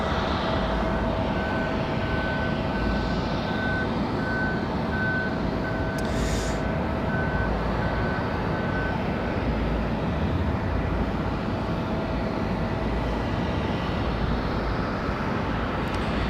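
A Cessna Citation jet at Raleigh-Durham International Airport produces a steady, broad engine roar at moderate distance that holds evenly throughout, with faint intermittent beeping tones in the background.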